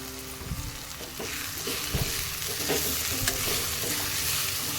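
Taakla leaf vegetable sautéing in a pan gives a steady, close sizzle broken by irregular scraping stirs, with no voices.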